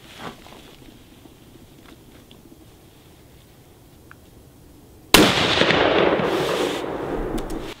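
A single gunshot fired at a target monitored by a Bullseye camera system: a quiet stretch with faint small noises, then a sudden loud blast whose rushing tail lingers for over two seconds.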